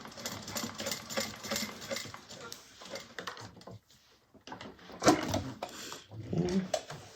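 A sewing machine topstitches a fabric bag with short bursts of rapid mechanical stitching. The machine pauses briefly, then resumes in uneven runs at close range.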